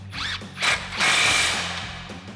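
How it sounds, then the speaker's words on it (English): A ratchet with a 21mm socket tightens the steering knuckle nut on a Jeep Gladiator JT heavy-duty steering install. Short bursts of mechanical clicking and whirring sound up close, with a longer run in the second half. "now we'll tighten down our knuckle side with our 21mm socket"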